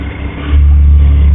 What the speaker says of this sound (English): here we are hearing quite a consistent sound, which means the engine is good